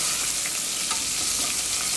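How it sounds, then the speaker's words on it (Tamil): Chopped large onions sizzling and frying in ghee and oil in a pressure cooker, a steady close crackling hiss with occasional stirring scrapes throughout. "3 பெரிய வெங்காயம் போட்டு நல்லா வணக்கிக்குங்க."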